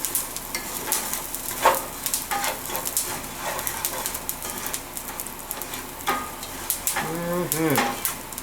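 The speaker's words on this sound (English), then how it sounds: "The rice is toasting up nicely" Rice toasting in a pan for paella, a soft, continuous sizzle with scraping stirs and light clinks, and a dog barking faintly near the end.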